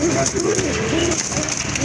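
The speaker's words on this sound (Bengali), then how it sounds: "এক জোড়া বোম্বাই কবুতর হোয়াইট বোম্বাই কবুতর" White Bombay pigeons, a breeding pair with eggs, cooing in low repeated rolls close by, mixed with faint background chatter and ambient noise.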